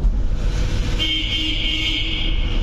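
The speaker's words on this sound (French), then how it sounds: "Écoute mon klaxon." A Mercedes truck horn blasts once in a single sustained honk that starts about a second in and holds steadily to the end, loud and close over a low engine rumble, with no talk.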